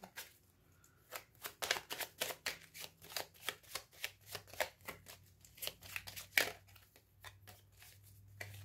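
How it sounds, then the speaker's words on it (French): Tarot cards are laid out one after another on a table, making a long run of soft, quick flicks and slaps. The sounds come close and quiet, with irregular gaps between them. "Je vais recouvrir quand même quelques cartes."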